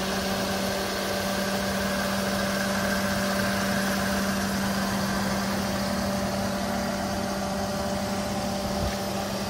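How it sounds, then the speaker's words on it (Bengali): A 2014 Toyota Allion idles with its air conditioning running, making a smooth, constant low hum with an even drone and no voices. "দেখেন গাড়িটার ইঞ্জিনটা কি স্মুথ ভাবেই আছে এখনো"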